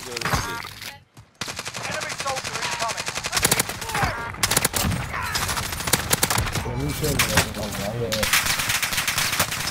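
Sustained machine-gun fire directed at the player in a shooter game, loud and close, with dense rapid bursts after a brief pause near the start and a voice exclaiming over the shots.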